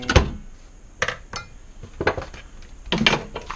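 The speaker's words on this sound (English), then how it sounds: "lock the lid." Clattering metal knocks and clinks as the lid of a pot is handled and locked into place in a kitchen, several separate bumps spaced irregularly over a few seconds.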